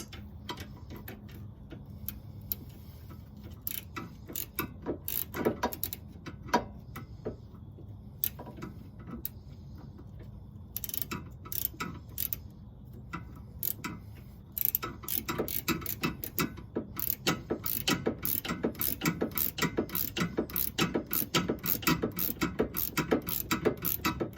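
A ratchet loosens a bolt on the control arm of a 2003 Honda Civic, with rapid repeated clicking in irregular bursts that grow denser and steadier toward the end, close and fairly quiet.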